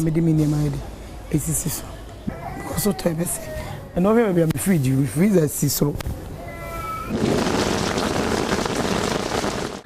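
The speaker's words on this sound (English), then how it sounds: "All we can do is to watch the rains drain into our rooms." Heavy rain pours down and water drains into rooms during flooding, ending in a steady, loud hiss of downpour after earlier voices and some cat-like cries.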